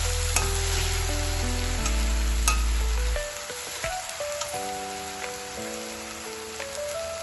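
Onion and tomato with salt frying and being mixed in a pan for paneer bhurji, a continuous loud sizzle with scattered stirring clicks under a steady electronic tone.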